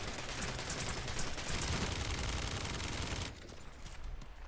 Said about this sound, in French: Une sorte de minigun.